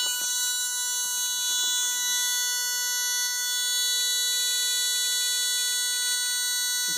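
A car gas-leakage detector project sounds a steady, shrill electronic buzzer alarm that drones continuously and loudly throughout, with faint clicks underneath.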